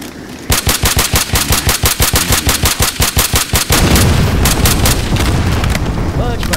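Loud, rapid automatic gunfire in Left 4 Dead 2, a steady burst of close shots that breaks into a denser roar of weapons and chaotic combat noise.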